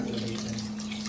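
Water poured into a pot of paneer pulao as it cooks, making a brief, steady splashing rush at close range.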